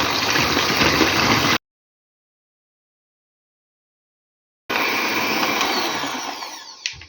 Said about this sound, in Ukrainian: Вливаю білочки у миску, кладу сюди дрібку солі і буду міксером до легенької піночки збивати.